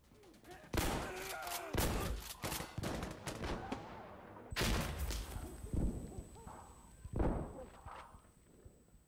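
Gunfire in Insurgency Sandstorm comes as sharp bursts and single loud shots, several separate volleys spread over the stretch with short gaps between them, while a player talks in between.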